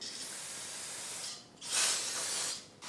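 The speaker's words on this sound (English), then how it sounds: "Spray it with brake clean" Brake cleaner sprayed onto a rusty front wheel hub of an Audi Q3 during a brake pad and rotor job, two close, loud hissing bursts from the aerosol can with a brief pause between them.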